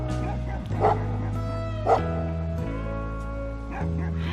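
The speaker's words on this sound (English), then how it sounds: "He's barking with a ball in his mouth?" A dog barking with a ball in its mouth gives muffled, stifled woofs and whimpering yips in a short series, heard close and fairly loud.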